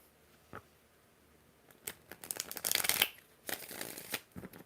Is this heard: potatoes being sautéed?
no